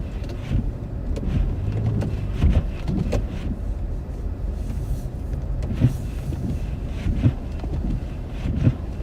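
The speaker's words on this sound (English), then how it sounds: "Look at the wind." Strong blizzard wind in New Orleans near Bourbon Street roars as continuous low, gusty buffeting across the microphone, with no talking.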